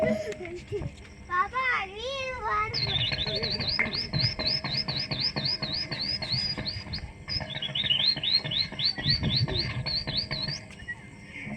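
A voice mimics sparrow chirps in quick, repeated high tweets, a long rhythmic run of chirping with a brief pause midway, fairly close and clear.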